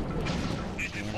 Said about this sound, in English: Fire and keep moving. Keep firing.